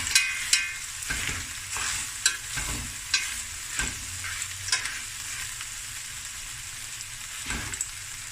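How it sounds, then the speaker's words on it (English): Rice fries in a pan with a steady sizzle while a utensil stirs and scrapes it, giving intermittent close clacks and scrapes over the constant hiss. "The rice is frying nicely."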